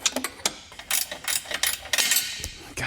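A ratchet clicks in quick, uneven bursts as it turns a long bolt on the exhaust of a Porsche 992 GT3 during a titanium header install, close and crisp, with short pauses between strokes.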